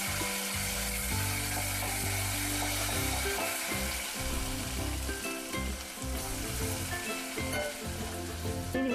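Ginger garlic paste fries in a pan for a ridge gourd yogurt chutney, giving a loud, steady close-up sizzle with occasional stirring scrapes and no talk.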